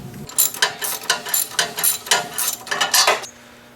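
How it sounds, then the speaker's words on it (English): Ratcheting wrench with a 12mm socket loosening a shear bolt on a snowblower auger drive, a close series of quick metallic clicks in bursts across the clip, alone with no talk, stopping abruptly near the end. "we're just going to undo this using a wrench and a 12mm socket"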